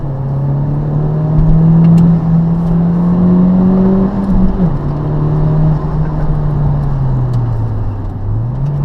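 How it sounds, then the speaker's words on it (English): A 2015 Honda Civic Type R's 2-litre turbocharged VTEC engine pulls hard and steadily, its drone rising through the revs, briefly dropping at a gear change, then climbing again, loud and close. "it all starts with a 2-litre turbocharged engine with VTEC technology"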